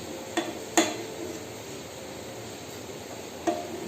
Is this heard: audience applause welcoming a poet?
no